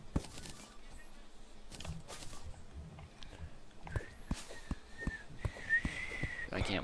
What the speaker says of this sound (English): I can't whistle that well.